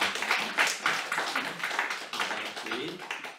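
Church congregation clapping after a Sunday service announcement, a small group giving brief uneven applause, close and fairly soft, with a few louder bursts.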